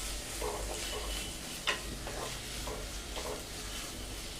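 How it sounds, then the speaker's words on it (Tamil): Finely chopped onions frying in a pan for a South Indian mushroom gravy, a faint, soft sizzle with light stirring and one sharp utensil tap partway through. "நல்லா ப்ரௌன் ஆகிற வரைக்கும் நம்ம ஃப்ரை பண்ணி வச்சுக்கலாம்."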